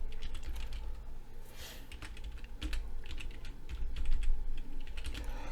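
Steady, rapid keystrokes on a computer keyboard while a product name is entered into an online store builder, heard close over a constant background hum.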